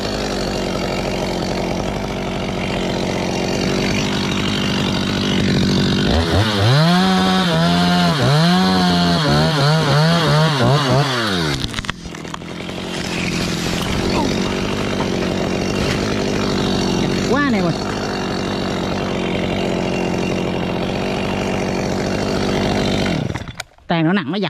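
Chainsaw cutting a tree branch while pruning a large tree over a rooftop, a loud, continuous buzzing roar with rising and falling revs as it bites into the wood, with voices talking over it.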